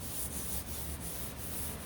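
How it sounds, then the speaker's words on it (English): Steady close-up sanding on a 1969 Corvette C3 door panel, a dense continuous rasping rub with faint rhythmic strokes, alone. "I've been sanding on it for about 2 hours"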